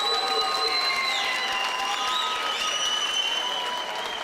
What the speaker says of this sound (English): please give both boxers a round of applause